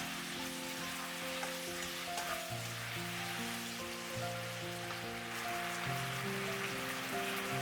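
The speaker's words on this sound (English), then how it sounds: "Let them soak in the sauce for 3 minutes by stirring them occasionally." Tofu cubes frying in sauce over medium heat give a steady, fairly faint sizzle that runs throughout beneath a louder melodic background music track.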